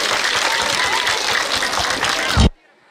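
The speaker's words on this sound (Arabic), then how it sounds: "تصفيقة تصفيقة كامل." An audience of children and adults at a closing event in an amusement park claps steadily and densely for a few seconds, the applause stopping abruptly.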